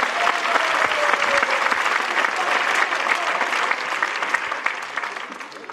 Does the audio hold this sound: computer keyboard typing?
no